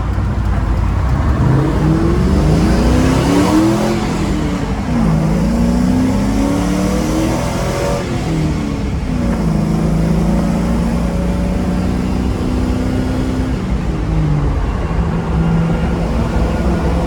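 A 1991 Toyota Land Cruiser HZJ75 fitted with a 6.0-litre LS V8 swap pulls away under load, its loud, steady engine note rising and falling through repeated revs and gear changes, with no talk over it.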